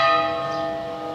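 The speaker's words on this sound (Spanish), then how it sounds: "están muy fuertes las campanadas" Church bells ring loudly in a town square, a sustained resonant peal with long ringing overtones decaying slowly, no voices over it.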